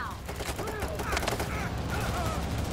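Rapid overkill-weapon gunfire in the heist shooter Payday 3, a dense burst of shots under a busy mix of game effects and music, with speech-like sounds in the background.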